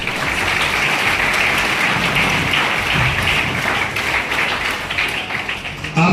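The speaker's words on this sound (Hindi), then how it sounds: "इसलिए शिक्षकों के लिए जोरदार तालियां बजा दीजिए।" An audience applauds teachers at a school event at DAV Model School, Suliyari. The clapping is loud and steady, a dense wash of many hands lasting throughout with no pauses.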